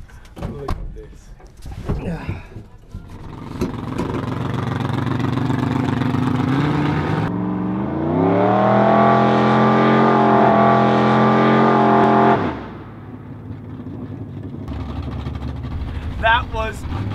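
Car accelerating hard, engine noise swelling into a loud rising roar with climbing harmonics that holds for several seconds then drops away, with talk before and after.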